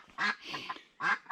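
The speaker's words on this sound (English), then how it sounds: "Daft duck." A duck on a farm gives two loud, raspy quacks close by, the first longer and the second short, with a quieter grumbling call between them.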